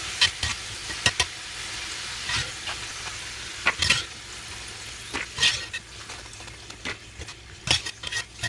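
Chak-chak dough pieces frying in hot oil, with a steady close sizzle and repeated sharp clinks and scrapes of a utensil stirring in the pan. No voices are heard.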